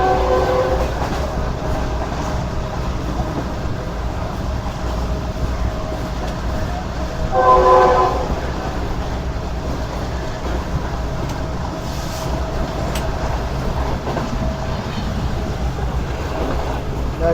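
Trains rumble past on a Pakistan railway during an overtake, a continuous rolling clatter of wagons with a brief louder horn-like swell midway, heard steadily from close by.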